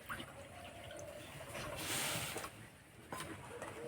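Half a bowl of water poured into a pot with sugar for a sugar syrup, a steady close trickle and splash that swells briefly midway, with light background noise.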